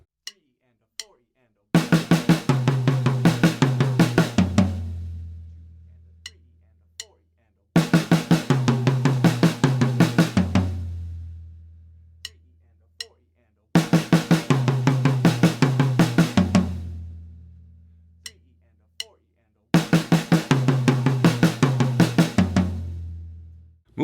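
A drum kit plays fast 16th-note fills in four separate bursts of rapid, evenly spaced strokes. Each burst ends in a deep, ringing floor-tom-like boom that decays into silence before the next one begins.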